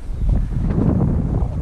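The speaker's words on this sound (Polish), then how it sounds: "Ale wiatr jest tak upierdliwy dzisiaj" Strong wind sweeps over a rocky Norwegian sea coast, buffeting the microphone with a constant loud, low rumble and no break.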